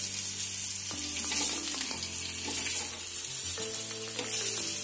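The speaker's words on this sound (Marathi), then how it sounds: "दुसऱ्या बाजूनी फ्राय करून घेऊया" Bangda mackerel fish fry in oil in a pan, a steady bright crackle and sizzle with a few clattering knocks of a utensil and a low hum beneath; no speech.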